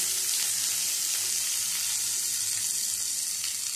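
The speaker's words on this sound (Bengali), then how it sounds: "পেঁয়াজ কুচিটা দিয়ে পেঁয়াজটা একটু ভেজে নেব।" Chopped onions sizzle steadily in a hot pan as the base of a leafy greens paturi, a dense continuous frying hiss that stays even and close throughout, with no talking.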